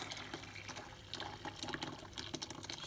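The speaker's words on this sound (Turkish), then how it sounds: "Şimdi bunu süzgece boşaltıyorum." Freshly boiled curds from homemade butter-making are poured into a strainer, giving a continuous close splash and trickle of liquid for a few seconds.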